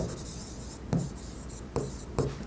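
Pen writing an accounting entry by hand on paper, a soft continuous scratching with three sharper strokes or taps spaced through the stretch, close and quiet with no talking.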